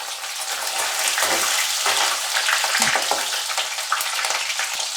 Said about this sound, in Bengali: হালকাভাবে একটু ভেজে নিই